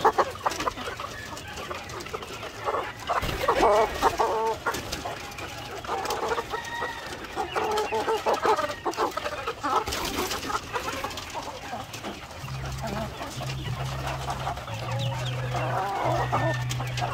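Chickens on a Philippine poultry farm, fed on commercial feed grains, cluck and chatter continuously at close range, with a few louder calls standing out from the busy flock noise.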